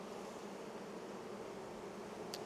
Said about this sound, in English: A lot of bees in there though.